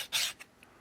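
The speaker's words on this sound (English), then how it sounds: "take a flat file and basically start filing away" Flat file rasping across a small brass-pinned part, one strong close stroke followed by two short faint scrapes.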